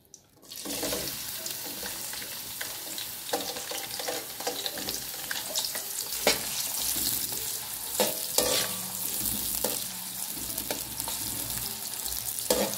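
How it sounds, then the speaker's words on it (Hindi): Chopped onions sizzle and fry steadily in hot oil in a home kitchen pan while cooking aloo gobi, a continuous close crackle with occasional louder pops and stirring scrapes, no talking. "ऑयल गर्म हो चुका है, मैं अब इसके अंदर प्याज डालूंगी।"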